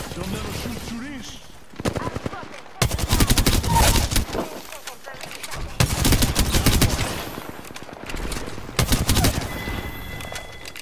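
Gunfire in the video game Apex Legends comes in sharp rapid bursts and volleys, loud and close, with brief lulls between strings of shots.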